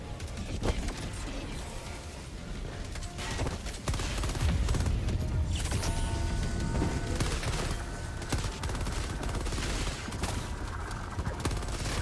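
Stalwart machine gun firing in Helldivers 2, a dense, continuous stream of rapid shots mixed with booms and other battle noise, loud and sustained over the whole stretch.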